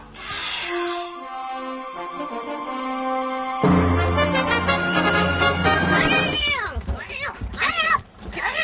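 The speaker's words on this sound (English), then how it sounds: "Bad kitty, bad kitty." A cat meows loudly in drawn-out wavering cries, mixed with musical tones and a ringing, close and prominent throughout.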